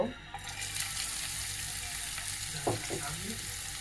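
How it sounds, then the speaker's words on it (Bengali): Chicken pieces fry in hot oil with a steady, close crackling sizzle, broken near the end by a few brief clattering stirs, with no talking. "চিকেনগুলো একটু তেলে ভেজে নেব"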